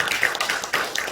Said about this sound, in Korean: 다시 한번 박수 한번 치겠습니다.